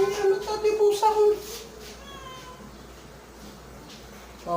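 A cat meows several times in quick, wavering cries during the first two seconds, close and fairly loud. Fainter mews follow amid kitchen background noise, and a person speaks briefly.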